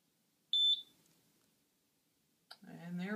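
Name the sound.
ESP8266 Arduino smart lock beeping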